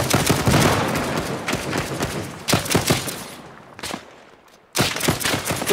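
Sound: gunfire in the video game ArmA 3

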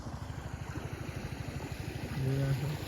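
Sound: motorcycle riding home from farm field

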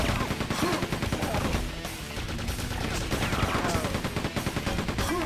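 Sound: gunfire from Gunner enemies in Quake II video game

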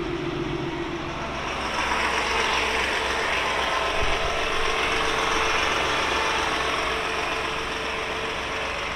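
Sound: 1979 Scout II truck being driven up ramps into trailer

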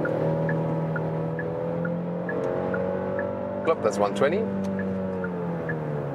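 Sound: car engine accelerating

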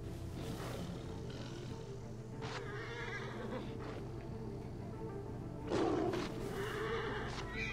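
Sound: horse neighing in a video game

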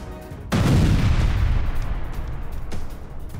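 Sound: explosives blowing up a building, news footage

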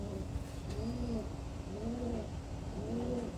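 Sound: black Venetian high flyer pigeons

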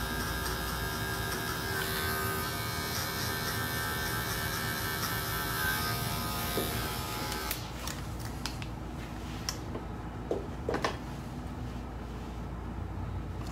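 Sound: hair clipper used for texturing hair

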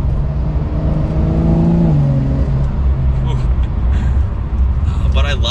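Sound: Porsche 911 Carrera S 992 engine and exhaust

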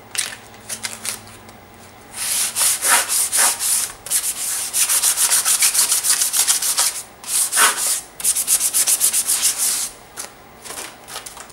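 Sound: sanding with 150 and 320 grit sandpaper

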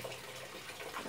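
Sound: fetching water from a tap

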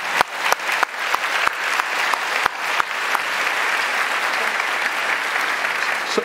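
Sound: audience applause for Manus

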